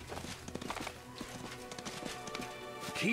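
Quick clip-clop of horse hooves from Pathfinder: Wrath of the Righteous, a steady trotting rhythm under faint background music at moderate distance.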